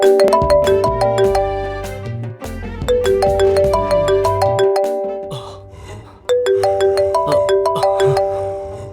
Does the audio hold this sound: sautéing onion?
no